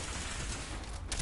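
Gunfire in Fallout 4 forms a dense, crackling burst of shots that runs continuously through the moment. It sits close and fairly loud, ending in a sharper crack, with no voices over it.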